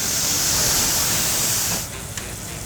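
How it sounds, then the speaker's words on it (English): Hen of the woods mushrooms sauté in butter and are deglazed with soy sauce, giving a steady, loud broadband sizzle that drops to a quieter hiss near the end, with one brief sharp crackle. "which we saute with a little bit of butter and deglaze with soy sauce"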